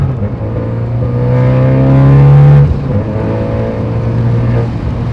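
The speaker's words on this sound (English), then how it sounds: "It went into second gear really smooth" A 10th-generation Honda Civic Type R FK8 accelerates hard, its engine note climbing loud and close before a sharp shift into second gear drops the pitch and the revs build again.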